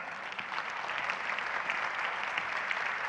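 A conference audience claps steadily and warmly, a dense patter of applause at moderate distance without letup.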